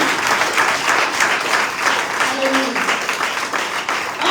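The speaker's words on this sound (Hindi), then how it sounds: "तालियां बजाएं" A church congregation applauds loudly during a sermon, with dense, continuous clapping that holds steady throughout. A faint voice briefly shows beneath it.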